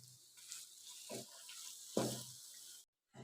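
Shredded cabbage cooking in a chicken samosa filling on a stove gives a soft, steady sizzle with a couple of louder stirring bursts, fairly quiet and close, cutting out abruptly near the end.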